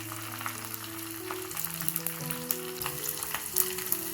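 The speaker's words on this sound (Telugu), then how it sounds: "వేసుకొని ఒక 5 సెకండ్ల పాటు అలా ఫ్రై చేసుకొని రైస్లోకి వేసుకునేద్దాం" Mustard seeds, garlic, dried red chilies and curry leaves crackle and sizzle steadily in hot tempering oil, a close, continuous fry with small pops and a low steady tonal hum beneath, no voices.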